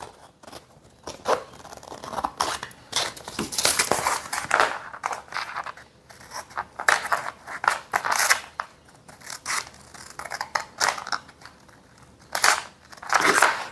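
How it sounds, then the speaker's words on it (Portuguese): Scissors snipping through fine-grit sandpaper, a series of sharp crunchy cuts in irregular bursts, close and fairly loud, with no talking. "É bom que cortar a lixa fina, afia a tesoura."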